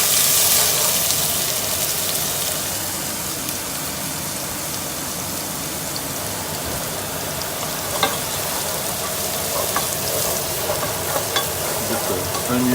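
Chili-cilantro-lime chicken soup being stirred in a pot, a steady bubbling sizzle with soft scraping throughout, a few sharper clicks and knocks near the end, no talking.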